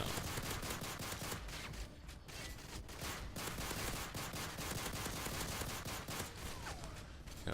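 Rapid gunfire rattles almost without a break in a Modern Warfare 3 Spec Ops match with pistols only, loud, close sharp reports in quick strings with only short pauses.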